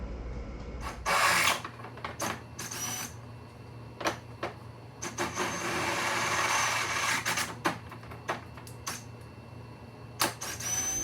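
Holes in a roller bracket for a Polaris Sportsman 450 winch install are reamed out for carriage bolts, giving short intermittent grinding and scraping bursts over a steady low hum, close by and without speech.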